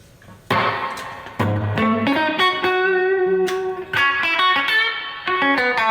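An electric guitar through a Fender Tonemaster amp with reverb plays a sequence of picked notes and chords, each attack ringing out with a lingering reverberant tail, close and clear with no voices.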